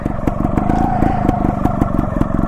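A two-stroke trials motorcycle engine runs steadily nearby, a dense, rapid buzzing putter with a clattery edge and no talk over it.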